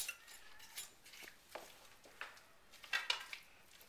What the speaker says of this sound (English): So we're going to take our chicken, and put it right into the salad. We'll give that a good couple of stirs.